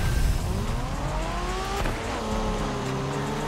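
A factory Honda NSX drives in The Crew Motorfest racing game, its engine note rising and shifting through gears at a steady loud level, with a tire squeal in places. No one speaks.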